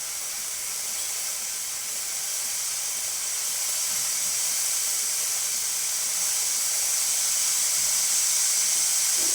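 The steam wand of a Breville BES espresso machine, just serviced with a thermostat repair, gives a steady broadband hiss close up that slowly grows louder without a break.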